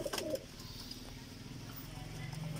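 Soft, low cooing from a Pakistani teddy high flyer pigeon, a repeated throaty murmur under faint background noise, with a brief higher chirp near the start.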